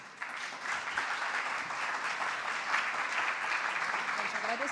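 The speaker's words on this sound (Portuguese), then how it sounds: "Obrigado pelas palmas" A conference audience gives sustained applause after a talk by the president of ABEOC, a steady wash of many hands clapping at moderate volume, with faint voices mixed in.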